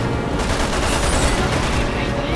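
Loud, dense bursts of gunfire fill a Resident Evil 6 fight in Jake's chapter, continuous rapid shots with no pauses in the short stretch.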